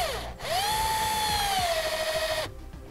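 A power screwdriver with a Phillips bit drives screws into a small bracket while installing a trailer brake controller wiring kit, giving a loud, steady whine that rises as the motor spins up and then cuts off after about two seconds.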